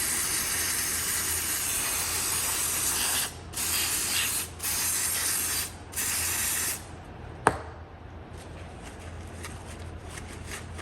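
An aerosol can of dry lube hisses in several sustained sprays into a Ram Tools Model F-11 Fury drill motor, separated by short pauses, close and loud, followed by a sharp click and quieter mechanical background.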